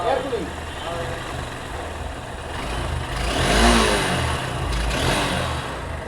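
A Honda Hornet 2.0 motorcycle engine idles with a low rumble and then revs up in a swelling burst before settling, with people talking nearby over it.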